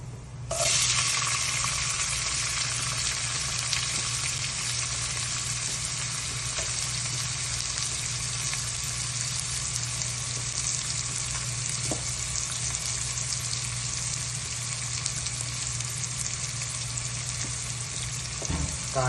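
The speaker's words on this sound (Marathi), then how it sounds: "जसं ब्राऊन झालं ना तसं आपण ह्याच्यामध्ये कांदा टाकू" Onion sizzles steadily in hot oil for urad dal, a loud continuous frying hiss with occasional stirring scrapes, no voices.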